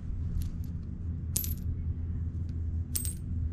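A silver dime drops onto a hard surface twice, each landing a bright, short metallic clink over faint steady background noise.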